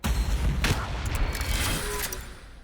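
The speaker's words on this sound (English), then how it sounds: "And we'll shoot you here." Battle noise from Warhammer Battlesector with Astra Militarum forces: a loud burst of gunfire, then a rumbling fusillade that slowly fades.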